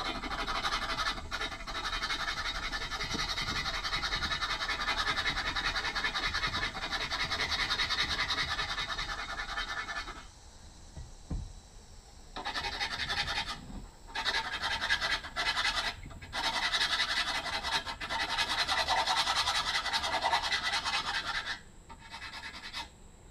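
A chisel scrapes hard rust from a cast wood stove door in long, gritty, continuous strokes, loud and close, with a few short pauses between passes.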